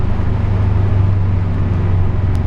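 Modified Subaru WRX engine running at a steady low idle, a loud, constant deep drone with no revving changes and no voices.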